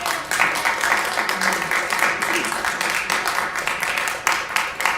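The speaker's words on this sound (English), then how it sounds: "I'm going to ask you not to clap after speakers." Audience at a city council meeting claps in a dense, sustained round of applause for about five seconds, fairly loud and steady with a few sharper individual claps.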